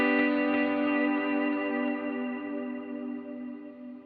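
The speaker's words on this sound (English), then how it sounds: "So there's a reverb on the feedback loop of the delay." A sustained guitar tone through a Line 6 Helix rings out, smeared with echoing delay repeats and washy reverb on the delay's feedback loop, slowly fading over a few seconds.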